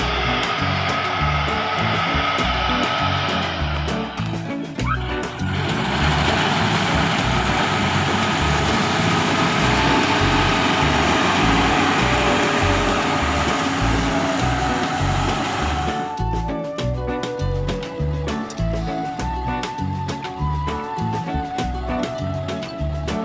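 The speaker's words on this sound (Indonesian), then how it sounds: "inilah mesin Yanmar YH" A Yanmar combine harvester engine runs steadily in a rice field, a loud continuous rumble with a rhythmic mechanical throb, swelling into a denser roar in the middle before settling back.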